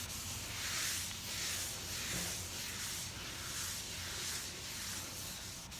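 Steady scrubbing on a surface during cleaning, a continuous close hiss-like rubbing with rhythmic surges in strokes, roughly one per second, with no talk.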